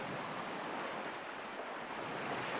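Gentle ocean waves lap near a shore in a steady, soft wash of surf noise with no distinct breaks, quiet and continuous throughout.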